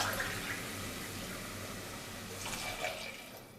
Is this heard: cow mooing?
no